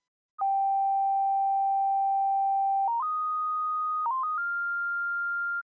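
Synthesizer sine-wave oscillator through a resonant filter, giving a pure, steady electronic tone that holds one pitch, then steps up through several held notes, loud and alone.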